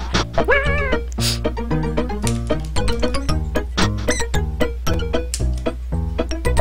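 A cat meowing in the Dennis the Menace video game, with a short wavering meow early on set against bouncy, plinking game music that carries on loud and rhythmic throughout.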